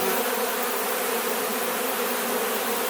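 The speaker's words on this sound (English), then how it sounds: "Got a couple bees up on the camera too." Honeybees hum densely around a full hive, a steady close buzzing swarm of many wings with no pauses and no voices, loud and even throughout.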